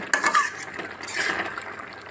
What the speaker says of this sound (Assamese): এইখিনি ভালকৈ তল ওপৰ কৰি এবাৰ লাৰি দিব